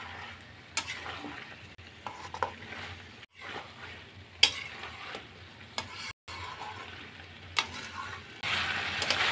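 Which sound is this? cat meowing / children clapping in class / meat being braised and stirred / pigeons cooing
meat being braised and stirred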